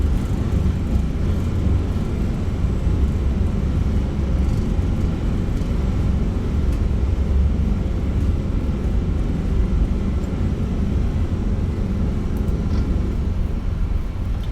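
An Airbus A321 in Flight Simulator 2024 rolls out after landing with reverse thrust engaged, a loud, steady low engine roar and rumble sustained throughout without talk.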